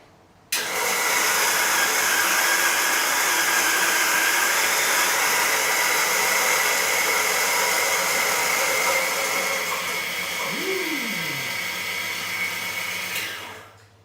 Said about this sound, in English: And let's give it a grind.